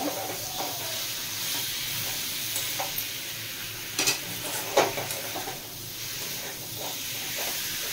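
Sweet amra (hog plum) chutney with added sugar is stirred in a pan over steady sizzling and hissing heat, with occasional soft scrapes and clinks of the spoon against the pan.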